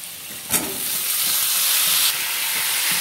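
Cauliflower and potatoes frying and being stirred in a pan: a constant close sizzle with a sharp scrape or clatter early on and soft stirring knocks throughout.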